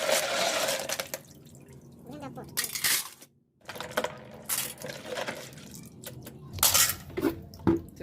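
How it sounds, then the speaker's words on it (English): Periwinkles (isam) shaken and rinsed in a bowl of water in a kitchen, with bursts of clattering shells and sloshing water separated by short pauses, close and fairly loud. "So we shaked it for the last time, only just to rinse it out"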